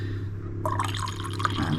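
Water poured from a jug into a cup of tea, a short gurgling, splashing trickle starting abruptly over a steady background hum.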